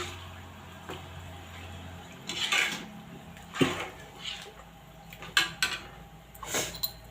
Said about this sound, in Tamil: போட்டுட்டு நல்லா மிக்ஸ் பண்ணி விட்டுக்கோங்க